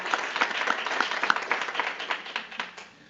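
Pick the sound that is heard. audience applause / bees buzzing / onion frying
audience applause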